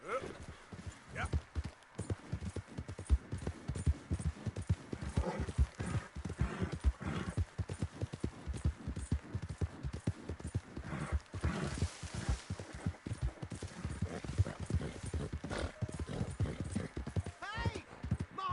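Horse hooves clip-clop steadily in Red Dead Redemption 2, a continuous rhythmic trot under in-game talk and ambient sound.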